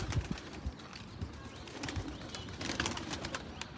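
Pigeons coo in soft, low, repeated bursts close by inside a loft, with rustling and faint bird chatter around them and no talking.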